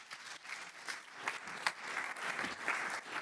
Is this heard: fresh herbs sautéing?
no